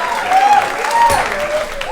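A live comedy audience breaks into loud, close, sustained applause, a dense patter of clapping with some cheering throughout the two seconds.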